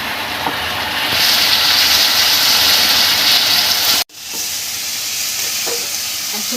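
A spice paste of chilli, ginger, cumin, tomato and capsicum with turmeric, salt and sugar fries loudly for a Bengali egg curry, a close, rushing sizzle with stirring, cut off abruptly midway before resuming slightly quieter.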